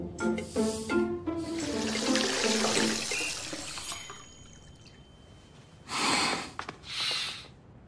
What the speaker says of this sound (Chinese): 去帮我放洗澡水。